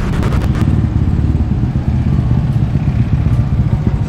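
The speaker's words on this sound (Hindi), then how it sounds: "So my bike is coming." A motorbike arrives in Bangkok, its engine running with a loud, steady throbbing rumble close by, with a few clattering sounds near the start.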